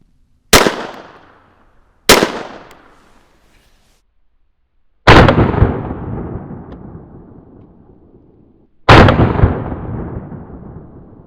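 Four sharp, loud .22lr CCI Uppercut shots from a KelTec P17 pistol fired into denim, each a crisp crack with a decaying tail, spaced irregularly with silence between, the last two ringing longer.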